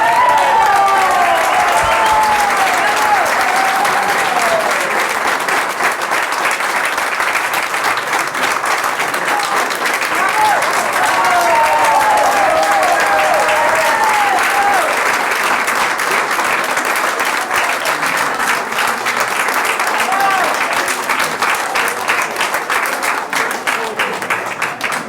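Loud, sustained audience applause fills a speech event honoring Armand Destroismaisons, dense clapping running steadily throughout with cheering voices and whoops rising over it.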